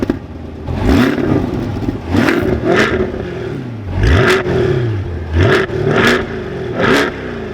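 A 2023 Chevrolet Corvette 3LT 70th Anniversary edition engine revs in a series of sharp, loud blips, each rising and falling quickly, with the engine idling steadily between the bursts.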